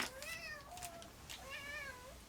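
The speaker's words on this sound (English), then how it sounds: "my cat got all crazy in the background there" A house cat lets out two drawn-out, wavering meows in the background, faint and somewhat distant, with a short pause between the cries.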